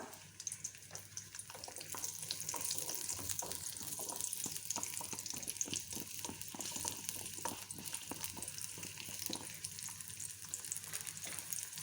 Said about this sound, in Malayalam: നമുക്കതിനകത്തേക്ക് നമ്മുടെ ഉള്ളി അങ്ങോട്ട് ഇട്ട് കൊടുക്കാം.